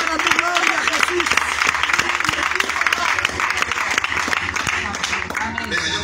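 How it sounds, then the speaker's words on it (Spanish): A church congregation claps during a lively Spanish-language worship service, the applause running continuously under loud voices, shouts and music-like tones throughout. "Venga, un aplauso para él"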